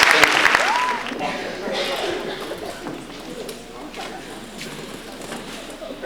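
Applause at a school prizegiving starts briefly and loudly, then settles into a softer murmur of crowd noise and shuffling, with a faint whistle-like tone near the start.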